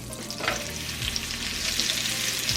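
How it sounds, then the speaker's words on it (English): A steak hits a pan of percolating butter and oil over medium-high heat, giving a steady, loud, close sizzle that holds for a couple of seconds, with a faint clatter near the start and no voices. "And now we're gonna put the steak in there."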